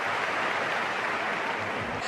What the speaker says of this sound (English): The Hong Kong flag got a big cheer there